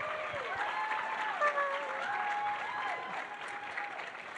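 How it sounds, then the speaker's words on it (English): Audience applause at a charity fundraiser stage event, a steady sustained wash of clapping from a crowd, fairly loud and even throughout, with a voice speaking over it. "Give her a big round of applause, Ruby."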